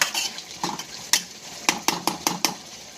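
A spoon scrapes and knocks through chicken curry with curry masala in a pan, a series of close rhythmic stirring strokes with soft clinks against the metal over a faint background sizzle.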